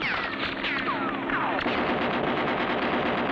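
Rapid cartoon machine-gun fire from an airplane in an old animated adventure, a steady rattling burst running the whole time, loud and close, with descending whistling swoops over it early on.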